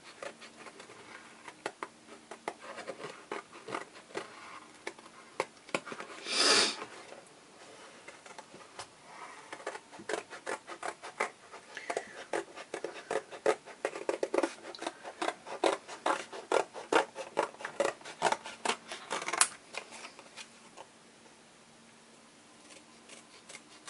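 Scissors snipping out a small card shape for a craft, a long run of quick, close, light crisp cuts and paper rustles with a few brief pauses and one louder scrape midway, no voices.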